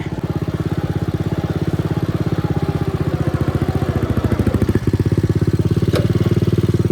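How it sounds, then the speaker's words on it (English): A John Deere lawn tractor's small engine runs steadily as the tractor drives, with a close, loud, even chugging putter and a faint clatter and a brief knock near the end. "Oh yeah, she drove out, no problem"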